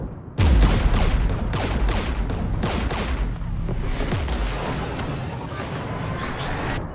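Heavy gunfire and artillery in Mass Effect 3: a dense, loud barrage of overlapping shots and booms that starts abruptly and rolls on continuously with sharp cracks over a rumbling low end.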